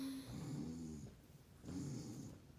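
A voice imitating snoring with two long, rumbling drawn-out snores, close and moderately loud, separated by a short pause.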